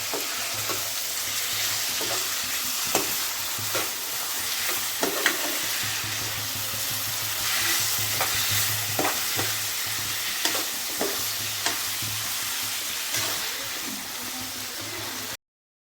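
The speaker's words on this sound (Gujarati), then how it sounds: "ત્યારબાદ આપણે ટમેટાં નાખી દઈશું વઘારની અંદર અને તેને વ્યવસ્થિત આપણે ગ્રેવી થઈ જાય એ રીતે વ્યવસ્થિત એને હલાવતું રહેવાનું છે" Tomatoes frying in a tempering for gravy, a steady close sizzle with light stirring clicks of a utensil scattered through it, no talking.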